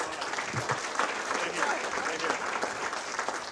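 Loud, steady applause from a room of Kiwanis club members at a meeting about foster care, a dense wash of clapping that holds evenly for a few seconds.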